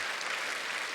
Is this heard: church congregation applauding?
yes